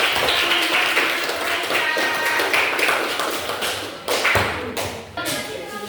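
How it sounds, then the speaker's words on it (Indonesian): A group claps together in quick, sharp, fairly steady beats, close and loud, the clapping thinning out toward the end. "tepuk tangan buat kita semua"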